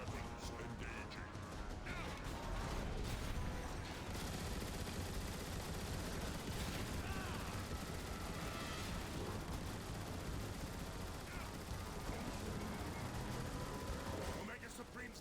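Dense, continuous barrage of weapons fire and explosions from the Transformers: War for Cybertron video game, loud and unbroken throughout with a voice faintly beneath.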